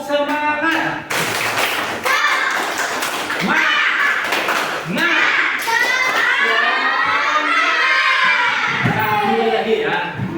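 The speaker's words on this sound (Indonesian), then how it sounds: "Tepuk semangat." Schoolchildren in an elementary classroom perform the tepuk semangat clapping chant, sharp rhythmic claps mixed with loud children's voices chanting together, close and lively throughout.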